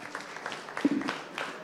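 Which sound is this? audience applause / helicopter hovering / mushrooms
audience applause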